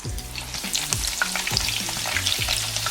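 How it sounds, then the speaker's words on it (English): Onions frying in a pan while chilaquiles are made, with a steady close sizzle broken by several sharp clatters and stirring knocks and no voices. "we are going to start by frying our onions"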